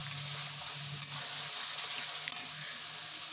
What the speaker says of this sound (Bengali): তো লঙ্কার গুঁড়োটা দেওয়ার পর আমি মশলাটা ভালো করে কষিয়ে নিচ্ছি।